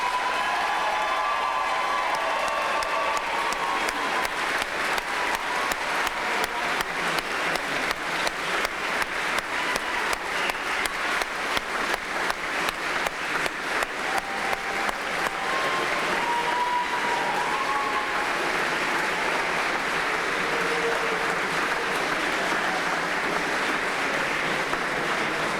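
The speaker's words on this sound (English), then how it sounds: "Let's give all of our new police officers a round of applause." A crowd at a police academy graduation ceremony gives the new officers a long round of applause, with sustained, even clapping and faint cheers throughout.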